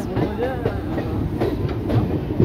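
The Shahid Express rolls past on a local railway line, a steady loud rumble and rattle of wheels with faint squeals all through, close and continuous.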